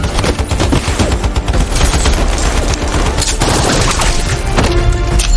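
Gunfire in a film action scene, with loud sustained bursts of rapid shots and booming impacts filling the whole stretch, dense and close.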